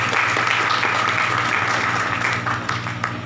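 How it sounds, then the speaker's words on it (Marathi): A room of people clapping together in congratulation at an organisations' meeting, a dense, steady round of applause close by that thins slightly toward the end. "यासाठी प्रशासनाचं सगळ्यांनी टाळ्या वाजवून अभिनंदन केलं."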